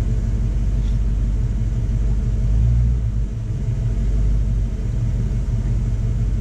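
A car engine rumbles at idle while its cooling system is bled, a steady low drone with a slight swell as it is given a little throttle, close and continuous with no talk.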